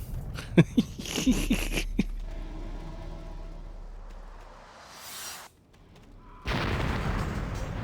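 A box explosion in the online game Anarchy Online, with a few sharp bursts early on, a sustained rumbling tail, and a loud noisy blast near the end.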